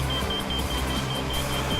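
A laser level receiver on a stick at a building site gives a series of thin, high, evenly spaced beeps over a steady low engine rumble.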